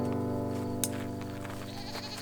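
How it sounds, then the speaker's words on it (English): A goat bleats once or twice, close by, over a steady background hum with no talking. "You gonna go and see the goat, Sonny?"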